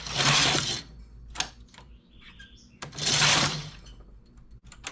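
Knitting machine carriage sliding across the needle bed, two loud rasping passes a few seconds apart with small clicks in between, close up.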